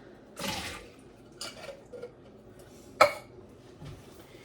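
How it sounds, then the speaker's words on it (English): Liquid from canned black olives drains through a strainer in a kitchen, a few short splashy pours and trickles with a sharper clatter midway, close and fairly quiet. "I'm going to use this to drain my black olives"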